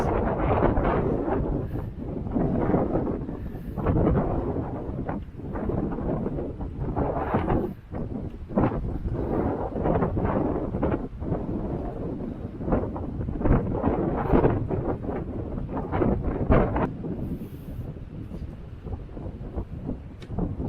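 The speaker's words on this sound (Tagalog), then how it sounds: "Sobrang lakas ng hangin, no? Hangin na yan talaga ngayong araw." Strong gusty wind by the sea among pine trees in Belarus, buffeting the microphone in a continuous roaring rumble, rising and falling throughout with no clear voices.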